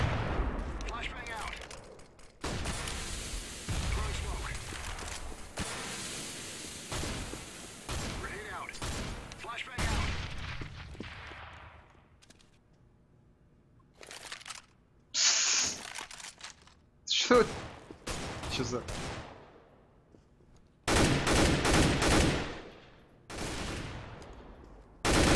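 Gunfire in CS:GO, including heavy AWP sniper rifle shots: repeated loud bursts and single cracks spread over the whole stretch, with gaps between, while voices talk throughout.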